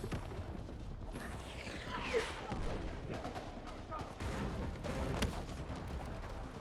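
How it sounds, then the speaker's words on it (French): Battlefield 6 artillery bombardment, repeated booms and blasts scattered around, with speech-like sounds mixed in and a constant rumbling backdrop. "Ça bombarde d'un peu partout là."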